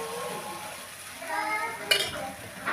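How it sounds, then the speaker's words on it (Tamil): Green gram dosa batter spread on a hot griddle with a little oil crackles and sizzles steadily, with a sharper spatter of frying near the end, heard close up with no talking. "ஒரு தோசைக்கல்லை ஹீட் பண்ணிவிட்டு அழகாக அதில் ஒரு தோசை ஊற்றி எண்ணெய் லைட்டாக ஆட் பண்ணி"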